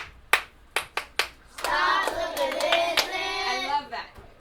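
Several sharp hand claps in a classroom, spaced irregularly over the first second and a half, followed by a burst of children's voices talking and calling out together.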